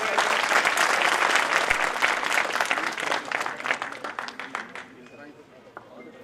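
A large audience at a tehsil-level Prajapati talent award ceremony in Bidasar gives an honoree loud, dense applause that holds steady, then thins and fades toward the end.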